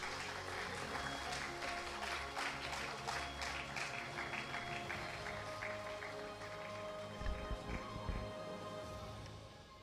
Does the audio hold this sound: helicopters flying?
no